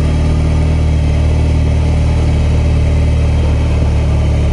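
A BMW R18 B bagger motorcycle engine idling with a steady, even low rumble, close and fairly loud, with no speech over it.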